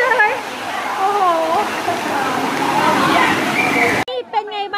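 A pool waterfall at the Centara Grand Mirage Beach Resort in Pattaya pours with a loud, continuous rushing splash under a woman's close, excited speech, then the roar cuts off abruptly near the end as she dives under it.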